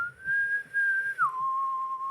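Someone whistles into a microphone during a podcast conversation: one clear, sustained tone that holds steady, then slides down to a lower pitch and carries on, close and alone.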